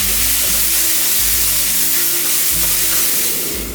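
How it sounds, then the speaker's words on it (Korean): Shiitake mushrooms fry in sesame oil in a pan over high heat while a vegetarian summer dumpling filling is prepared. A loud, steady sizzle and hiss run throughout with no talking. "팬이 뜨거워지면 표고버섯을 넣고 볶다가 소금을 한 꼬집 넣고"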